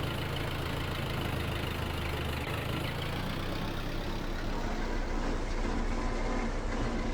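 A 300 horsepower tractor engine in the Farming Simulator 22 video game, a steady low diesel drone working under load, loud and constant, with its pitch shifting slightly partway through.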